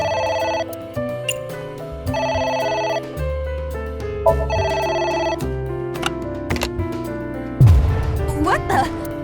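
In the video game AI: The Somnium Files, a telephone rings repeatedly with an electronic, evenly spaced trill over a tonal backing score, ending in a sudden sharp crash.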